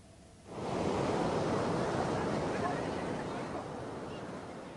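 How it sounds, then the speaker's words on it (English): Ocean waves hiss rhythmically along the Okinawa shore, a dense continuous wash that swells in after a quiet start and holds steady, close and fairly loud. "A prayer to the ocean against the rhythmic hissing of the waves."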